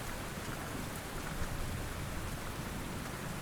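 Steady rain falls in a stormy night ambience, a dense, even hiss of drops on surfaces that continues without break. Nobody speaks.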